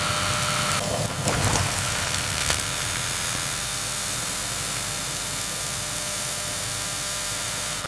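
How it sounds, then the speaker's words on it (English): High-temperature steam blasts into the crevices of a car engine during restoration work, a steady, loud hissing spray that runs continuously, with a brief burst of rougher noise early on. "High-temperature steam blasts intricate engine crevices, dislodging stubborn oil and carbon deposits."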